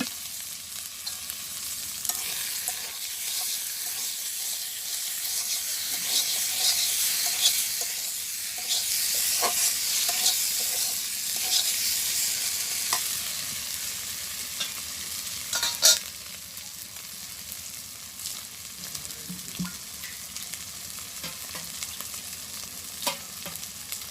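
Curry is stir-fried in a pan in a village kitchen, a long steady sizzle and hiss with repeated stirring scrapes, one sharper knock midway, and no voices.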